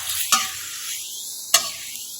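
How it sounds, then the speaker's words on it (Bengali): Tomato and green chili being stirred in a frying pan: two distinct spatula strokes rise above a quiet, continuous sizzle, heard close and alone. "সাথে হয়ে যাওয়ার পর টমেটো আর কাঁচামরিচ দিয়ে মিক্স করা হচ্ছে।"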